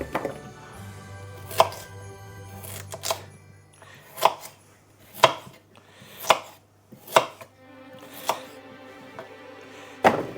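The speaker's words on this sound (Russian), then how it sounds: "И сразу же мы порежем и бросим сюда в большую миску" Potatoes being cut with a knife for roasting alongside steak: a slow series of about ten sharp, solid chops on a board, spaced roughly a second apart, close and clear with no talk.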